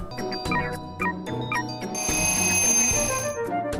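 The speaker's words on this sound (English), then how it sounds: "the countdown timer goes by way too fucking fast for its own good" A minigame countdown timer in the video game Imagine Party Babyz beeps and chimes in quick rhythmic pulses over bright game music, ending in a sustained high electronic tone, with no talking.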